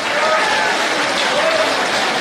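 A crowd of women claps at a public event in Nagaur with Chief Minister Ashok Gehlot, producing a dense, loud, continuous wash of applause with voices mixed in.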